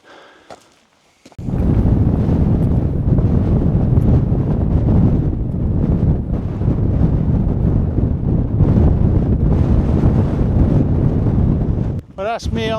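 Strong, steady wind roars across the microphone on the exposed summit of St Sunday Crag in the Lake District, a dense continuous buffeting from after a quiet start, dropping away briefly near the end.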